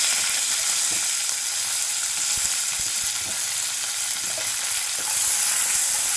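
Curry leaves frying in oil in a pan for mint chutney, a steady close bright sizzle with faint stirring clicks, no talking.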